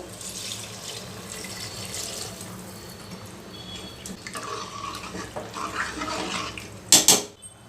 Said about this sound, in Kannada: ಈಗ ಇದರ ಬೇಳೆ ಮೇಲ್ಗಡೆ ಬರೋ ಅಷ್ಟು ನೀರು ಹಾಕಬೇಕು